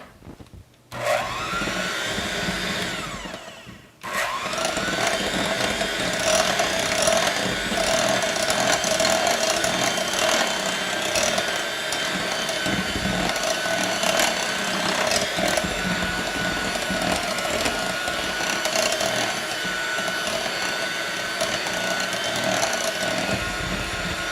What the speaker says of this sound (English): I'm going to just take my mixer and we're going to just blend that up here